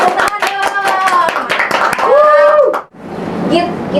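A few people clap in quick, close handclaps while voices talk and laugh over them, then the clapping stops and talk continues.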